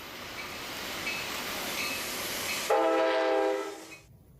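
A toy train's horn sounds loud and close for about a second and a half, a bright steady harmonic tone cutting in over a rushing mechanical background before fading out.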